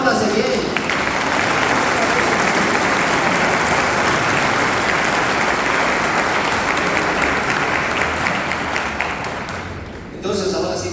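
Church congregation applauding themselves, a dense, loud, sustained burst of clapping from a full room lasting about ten seconds before fading and briefly picking up again at the end.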